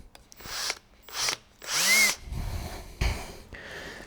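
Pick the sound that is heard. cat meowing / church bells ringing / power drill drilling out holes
power drill drilling out holes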